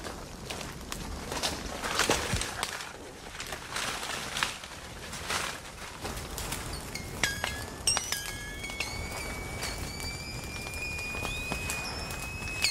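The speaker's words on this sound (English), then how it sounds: "That pinging noise is the wasps exploding." Sharp, high pings and pops of wasps exploding in smoke crackle irregularly over a steady background hiss, growing more frequent toward the end, with scattered light taps throughout.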